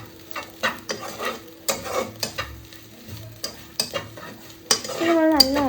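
Noodles and scrambled egg are stirred in a pan: repeated scraping and clacking of a utensil against the metal in an uneven rhythm over a light sizzle, close up, with a brief squeaky scrape near the end.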